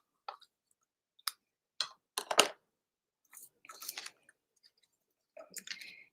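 Scissors snip a ribbon trim for a handmade butterfly card: a handful of short, crisp cuts close by, spaced irregularly with quiet gaps between them.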